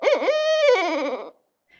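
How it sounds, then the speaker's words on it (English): A barred owl in the Maine woods gives one loud, close hooting call with a rising and falling wavering tone, lasting just over a second before dropping to silence. "Oh, there's the owl. So the barred owl is in the back corner here."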